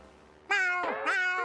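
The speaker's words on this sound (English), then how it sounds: "Are your snails still meowing?" A snail in the SpongeBob SquarePants cartoon gives two clear, close meows in quick succession, rising then falling, after a near-silent start with no talking.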